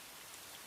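Steady rain falling, a soft continuous hiss of drops on a surface with no pauses, fairly faint and even throughout.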